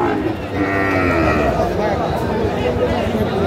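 Cattle at a busy livestock market low and moo, with sheep-like bleats mixed in, all under steady crowd chatter and nearby voices talking throughout.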